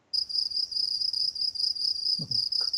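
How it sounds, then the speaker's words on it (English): A crickets sound effect chirps in a steady, rapid pulsing trill that runs continuously, with a brief soft thump near the end. "Crickets. Crickets."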